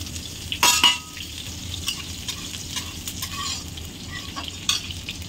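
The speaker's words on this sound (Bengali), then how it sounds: "এবার তেলের মধ্যে ফোড়ন দিয়ে দেবো।" Dried red chilies, cumin, bay leaf and chui spice sizzle and crackle as they drop into hot oil for a Bengali fish curry, with a sharp pop near the start and a steady close frying hiss after it, no talk.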